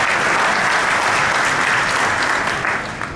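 Sustained round of applause from a conference audience at a Qualcomm 4G/5G summit, dense and steady throughout before tapering slightly at the end, with no talking over it.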